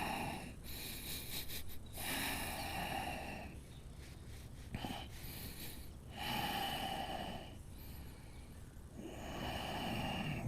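Slow, audible breaths in and out during a held yoga pose, a few long deliberate exhales and inhales in a quiet room, close and fairly soft with no talking.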